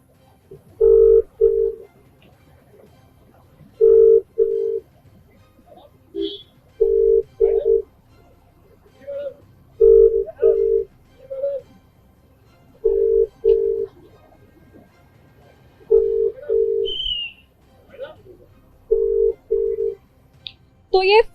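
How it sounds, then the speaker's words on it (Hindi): Repeated double-burst ringback tones of an unanswered phone call to an official in Greater Noida, sounding in steady pairs for about twenty seconds, clear and fairly loud with faint background noise between rings. "तो ये फुल रिंग हो गया, इन्होंने फोन ही नहीं उठाया"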